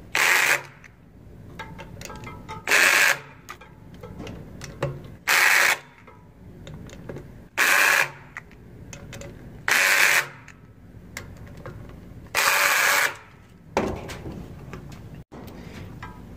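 A power driver tightens screws on a Sondors ebike in short, loud, evenly spaced bursts of whirring, separated by quiet pauses with faint clicks and handling noise.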